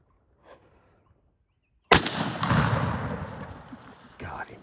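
Single sharp gunshot fired at a wild turkey during a hunt, loud and close, with a long echoing decay outdoors after a near-silent lead-in.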